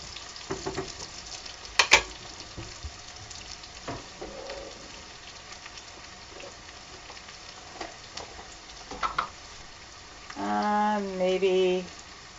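A veggie stir-fry of white eggplant, garlic and onion sizzles with scattered crackles and occasional stirring scrapes, moderately close. A short tonal, wavering sound appears near the end.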